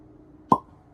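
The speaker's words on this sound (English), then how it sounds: "Let's see if we can get a good cork pop here." A single sharp cork pop sounds as the stopper is pulled from a bottle of black whiskey, near and brief, against a quiet room.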